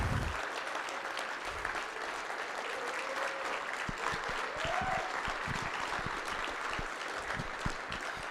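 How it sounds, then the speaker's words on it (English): Audience applause at a closing ceremony, a steady wash of many hands clapping that carries evenly throughout, moderately loud and without talk over it. "They deserve a huge round of applause."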